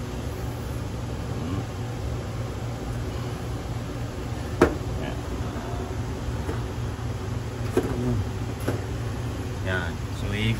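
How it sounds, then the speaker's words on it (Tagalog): A kitchen exhaust fan draws out grill smoke with a steady low whirring hum, while scattered small clicks and household noises sit over it and voices come and go in the background. "Buti na lang may exhaust doon, so buksan lang natin yan."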